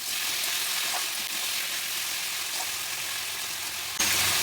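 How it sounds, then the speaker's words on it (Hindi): Raw potato pieces sizzling in oil in a pan, a steady, moderately loud hiss with faint stirring, no talking, and a slight jump in level near the end. "आलू को एक बार भून लीजिए।"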